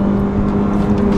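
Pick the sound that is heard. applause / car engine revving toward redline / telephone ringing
car engine revving toward redline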